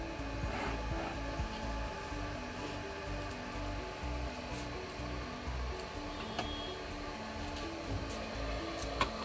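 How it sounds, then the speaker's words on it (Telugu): A laser printing machine marks a 9 watt LED bulb with a steady mechanical whir and hum and faint rhythmic ticks, running nearby without talk. "ఇది లేజర్ ప్రింటింగ్ మిషన్ అండి."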